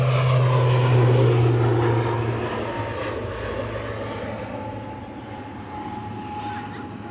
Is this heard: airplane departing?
yes